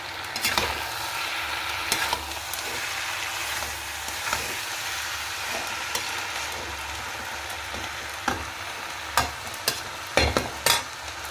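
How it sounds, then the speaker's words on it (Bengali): Chopped coconut frying in a pan for a Bengali banana-flower dish, a continuous low sizzle with occasional sharp clicks of a utensil against the pan, up close. "আর নারকেলটা না তখন কুচি কুচি করে কাটা হয়নি, তাই এই দেখছো একদম শেষে ভাজছি"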